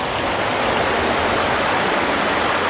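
A California creek flows nearby in a steady, loud rushing wash of water that stays constant and unbroken.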